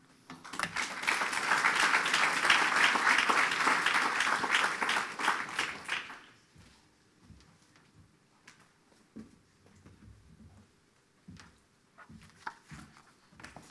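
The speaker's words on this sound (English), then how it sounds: "please join me with giving George another round of applause" A business audience at an economic forum applauds as a director is welcomed to the stage, a full round of clapping that swells, holds for about six seconds, then cuts off into quiet room noise and scattered footsteps.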